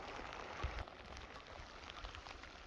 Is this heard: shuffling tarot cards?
no